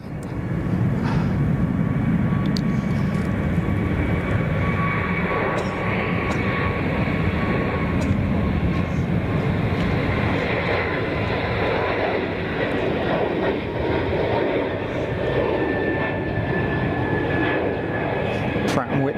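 Swiss Airbus A220-300 jet engines wind up at Zurich Kloten airport, a steady loud roar and rising whine that holds for the whole stretch, with people talking over it.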